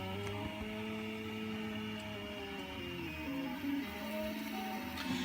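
A 3D printer printing a part for an InMoov robot leg build, a quiet steady whirr of stepper motors with shifting tonal whines and faint ticks, continuous and close, with no talking.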